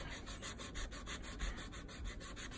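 A hand nail file shapes an acrylic nail square, held straight up and down, in a steady run of quick, close, rhythmic back-and-forth rasping strokes.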